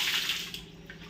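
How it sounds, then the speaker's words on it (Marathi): Water is poured from a vessel onto a tiled floor while cleaning it at home, making a soft, steady splashing hiss that fades away, fairly quiet with no talking. "मस्त वाटतं असं फरशी पाणी ओतल्यावर"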